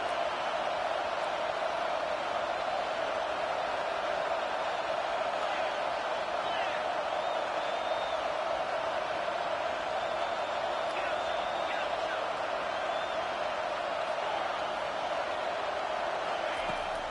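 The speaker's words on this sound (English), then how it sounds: "this crowd is fired up. Listen to this noise here." A college football stadium crowd roars in a dense, sustained wash of cheering and noise, steady and loud throughout with occasional faint whoops standing out from the mass.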